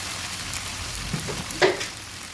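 Chopped onions and a large tomato sautéing in a pan, a soft continuous sizzle with a couple of brief scraping stir strokes, close and alone without any talking.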